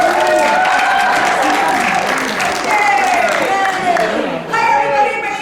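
Crowd applause warming up for an improv comedy show, steady clapping from a full audience filling the room, loud and continuous with a short dip near the end, while a voice speaks over it.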